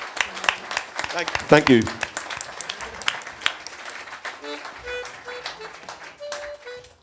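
A concert audience applauds in a hall, a burst of scattered clapping that thins out over several seconds while someone speaks briefly. A few sustained instrument notes ring out near the end.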